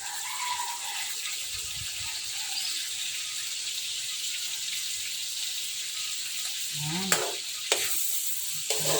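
Palabok noodles being stirred in a pan with sauce of sugar, magic syrup, soy sauce and black pepper, a continuous wet sizzle with scraping and a few clanks of the utensil near the end.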